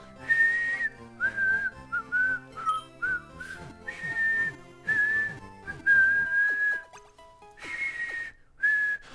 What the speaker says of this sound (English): You caught yourself whistling that song to yourself this weekend.